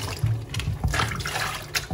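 Water splashing and trickling into an electric kettle, uneven pouring with several bursts of gurgling and dribbling, close and fairly loud.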